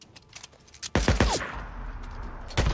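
SMP9 submachine gun fire in the video game Days Gone, several quick close bursts of shots with a sharp rapid cluster, then a lingering rumble and another short burst at the end.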